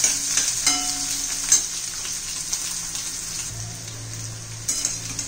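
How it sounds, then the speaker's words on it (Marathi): Chopped onion and chillies sauté in a hot pan with a continuous near sizzle and a few light stirring clinks throughout. "कांदा चांगला परतून घेऊया आपण"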